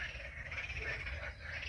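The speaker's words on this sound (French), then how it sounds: "je crois que c'est les grenouilles hein, qui chantent comme ça." Frogs croak in a dense, continuous outdoor chorus at an open-air music festival concert by the river, a steady faint chirping texture with low rumbling background noise beneath it.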